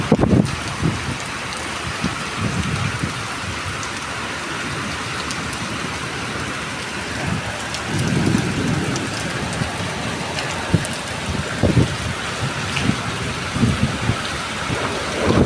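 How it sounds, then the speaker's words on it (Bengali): A heavy Kalbaishakhi storm pours down in a village yard, dense rain drumming on surfaces with low rumbles of thunder swelling in and out, loud and continuous throughout. "প্রচণ্ড ঝড় বৃষ্টি"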